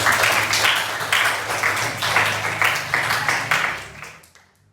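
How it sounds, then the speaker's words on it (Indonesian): Classroom applause as students clap together for a classmate, a dense burst of hand claps that holds steadily for several seconds before fading out near the end. "Tepuk tangan untuk Patni"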